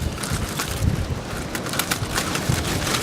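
Wind buffeting and rumbling across the microphone outdoors, gusty and continuous, with a faint wash of surf beneath.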